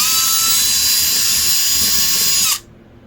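A power drill with a larger bit whines loudly at steady high speed for a couple of seconds, then stops abruptly, leaving a faint quiet room.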